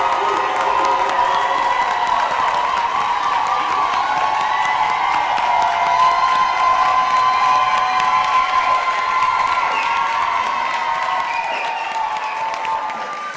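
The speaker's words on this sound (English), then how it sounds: "So let's have a round of applause for the spring nursing class of" A large audience at a spring 2025 nursing pinning ceremony for St. Louis Community College Florissant Valley claps and cheers, a dense, continuous wash of applause with whoops and shouts that stays loud throughout and eases slightly at the end.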